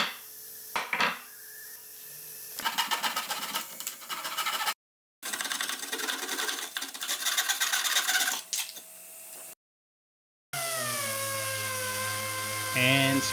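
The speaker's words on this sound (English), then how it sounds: "And sanded a bunch more." A power sander works over a wooden rolling countertop base in several separate buzzing passes with abrupt gaps between them, ending in a steadier whirring tone.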